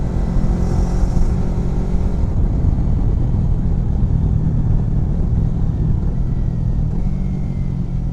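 A Kawasaki Versys X Tourer motorcycle engine produces a loud, continuous, close-up roar and low rumble that holds steady without distinct rises or drops, and no voices are heard.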